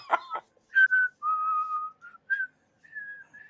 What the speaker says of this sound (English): And Phineas, literally like, whistling "God Save the King" right now, just blending it.